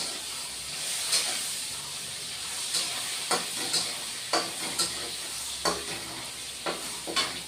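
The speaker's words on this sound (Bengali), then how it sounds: "তারপরে আলু আর শশা ভাজবো" Potatoes and cucumber fry in a pan for a dried fish dish, giving a continuous close sizzle with a periodic scrape and knock of a spatula stirring the pan, no speech.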